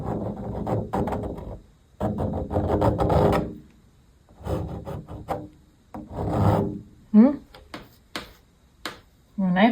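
A painting knife drags paint across canvas in a series of rough, raspy scraping strokes, each a second or two long, separated by short pauses, close up, with a brief voice sound near the end.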